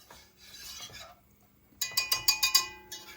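Flour is stirred into oil in a pot. A quiet bubbling is followed by a quick run of six rhythmic metal scrapes of a spoon against the pot, then the soft sizzle returns.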